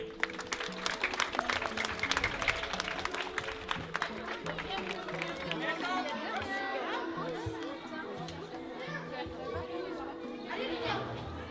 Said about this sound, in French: vraiment vous pouvez vous applaudir sur cette réalisation